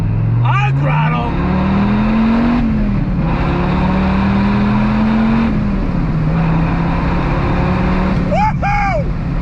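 A 2006 Dodge Viper SRT10 engine pulls on throttle in steady rising surges, heard from inside the car, with a voice briefly exclaiming at the start and end.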